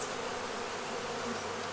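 Honey bees crowd a hive frame during a colony inspection, a dense steady buzzing hum close up with no voices.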